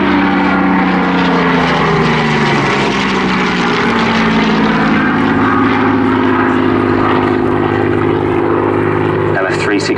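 Propeller aircraft LF363 of the Battle of Britain Memorial Flight roars past during an airshow display at Southport, a loud sustained engine drone with shifting pitch as it passes, with a voice commentating over it.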